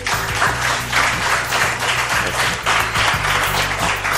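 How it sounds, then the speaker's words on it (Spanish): An audience applauds a guest at an event on the island of La Gomera, a dense and loud sustained clapping that fills the space with a low rhythmic hum underneath. "os pido un aplauso para él, para ellos."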